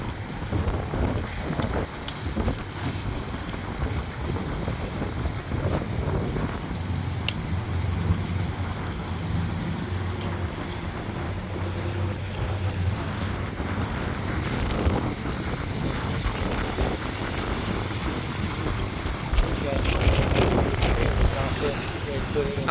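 Strong gusty wind sweeps across a lake at a bass fishing tournament, with gusts up to 45, roaring into the microphone around moored boats while people talk intermittently.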